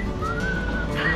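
A whistling bug toy at a Paris flea market gives a soft, wavering whistle that rises and dips, fairly quiet against a low background hum, with a brief higher chirp near the end.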